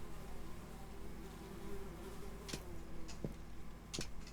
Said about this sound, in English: There's flies buzzing around that guy